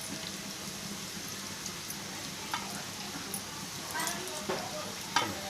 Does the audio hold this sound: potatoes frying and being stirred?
yes